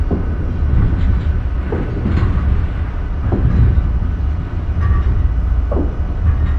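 A Northeast Regional passenger train runs on the New York to Washington line, speeding up toward 125 with a steady low rumble and periodic rail clicks; loud, continuous and close, with no talk.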